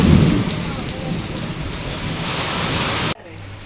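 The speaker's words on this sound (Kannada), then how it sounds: "ಈಗಂತೂ ಫುಲ್ ಮಳೆ ಸ್ಟಾರ್ಟ್ ಆಗಿಬಿಟ್ಟಿತ್ರಿ. ಸಡನ್ಲಿ ಜೋರು ಬರತ್ತೈತೆ ನೋಡ್ರಿ" Heavy night rain pours down on a leaking house in a dense, steady roar, loud and close, cutting off abruptly near the end.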